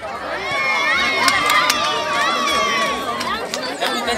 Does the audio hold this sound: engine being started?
no